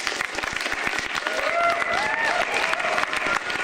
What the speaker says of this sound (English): if you could please give a warm hand of applause for Jason Aviles